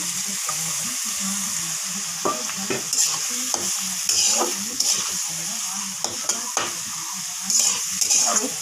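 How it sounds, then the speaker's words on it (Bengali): Onions and tomatoes fry in oil with pointed gourd seeds, a steady close sizzle broken by repeated scraping stirs of a spatula against the pan, with no one talking. "এই পেঁয়াজগুলো টমেটো সব দিয়ে দিচ্ছি"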